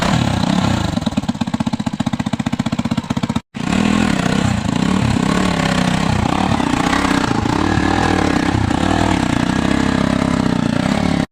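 A motorcycle engine runs loudly and close, a rapid pulsing idle that cuts out for a moment and then continues as a steady rough roar, out in a rural village.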